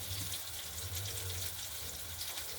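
Water runs steadily from a tap into a container being filled, a constant close gushing hiss with a low resonant hum underneath, no voices, unchanging for the whole stretch.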